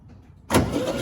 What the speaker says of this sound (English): Chris, crank it.